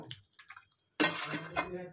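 Chicken kosha, a spiced Bengali chicken dish, stirred in a cooking pot: a few soft clinks and taps, then a sudden loud, dense sizzle with scraping for the last second.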